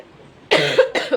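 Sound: coughing

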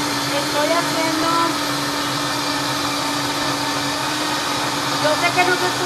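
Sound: blender running

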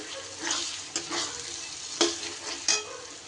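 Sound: tomato added to frying mutton curry masala, sizzling and stirring

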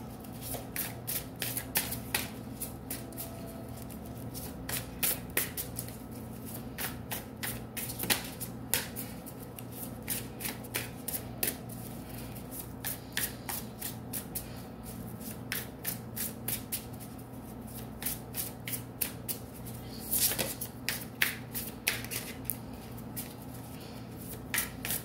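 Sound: shuffling tarot cards

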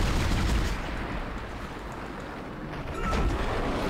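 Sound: gunshots from video game Dead Space

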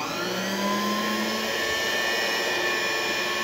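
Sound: 1990s Electrolux SFM 689 150 W stand mixer running

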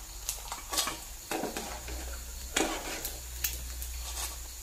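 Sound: food frying in a pan

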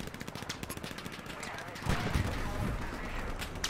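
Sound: machine gun fire with green tracers in a video game

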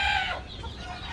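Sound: hen clucking

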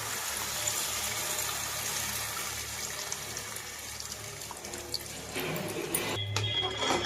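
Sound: pouring soaked tamarind extract into bitter gourd curry

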